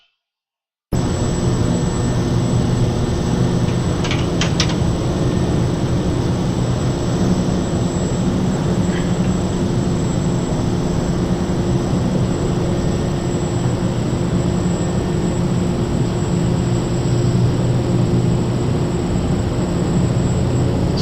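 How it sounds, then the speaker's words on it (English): A Carenado Shorts 360 turboprop in a flight simulator drones steadily during a stall, with broad engine and airflow noise and a faint high tone holding level for the whole stretch. "I'm going to put the airplane into a stall, and we're going to see how it recovers from that"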